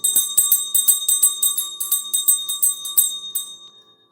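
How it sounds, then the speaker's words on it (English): A small bell rung rapidly by hand, giving a steady run of about a dozen bright, close strikes that ring on and fade out at the end. "I need to ring the bell."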